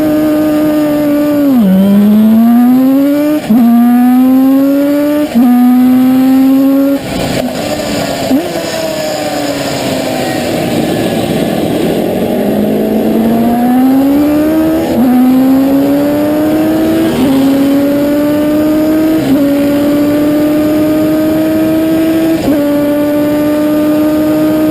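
A Koenig 500 racing motorcycle, a two-stroke machine of around 75 horsepower, being ridden: a loud, close engine note climbing repeatedly through the gears, with brief dips at each shift and no talk.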